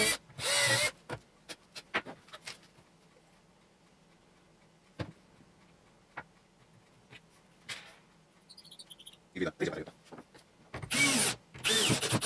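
Power drill boring a 16 mm hole through thick glued wood for an axle, heard in short bursts: a brief whir at the start, then several loud drilling runs near the end, with quiet handling gaps between.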